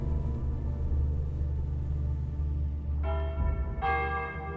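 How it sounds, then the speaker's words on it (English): Church bells at St. Halvard's ring out the morning hour: a rich, sustained bell tone hums throughout, then two fresh strikes land near the end, ringing loudly with no voices. "When the bells over at St. Halvard's rang 5 times to mark the morning hour, Fitz blinked drowsily"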